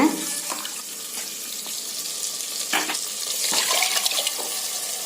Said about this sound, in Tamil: நம்ம சட்டியில் தாளிச்சிட்டு இருக்கோம் இல்லைங்களா அதோட ஊற்றிடலாங்க